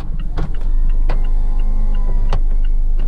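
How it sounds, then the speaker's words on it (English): Electric motor whine of the retractable hardtop on a 2017 Mazda Miata RF as it lowers, a steady mechanical hum with a few clunks and clicks at the start and later on, heard up close inside the car. "but we're going to put the top down too"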